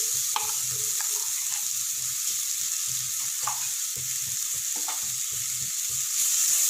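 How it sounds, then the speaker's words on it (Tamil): Ginger garlic paste frying with golden-browned onions in a pan for Chettinad mutton curry, a steady close sizzle with a few stirring scrapes throughout, no voices. "இஞ்சி பூண்டோட பச்சை வாசனை போகிற வரைக்கும் நல்லா வதக்கிக்கலாம்."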